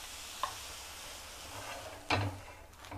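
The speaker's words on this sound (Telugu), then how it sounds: "వేడెక్కింది, కొద్దిగా నీళ్ళు చల్లి" Water sprinkled onto a hot griddle, heated for ragi pesarattu, gives off a constant close hiss with a short tap and a sharper spitting burst of sizzle, with no talk.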